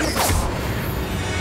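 A Confringo explosive spell cast in the Hogwarts Legacy video game bursts out with a short, sharp whooshing blast, then its rumbling tail fades into a steady low game soundscape.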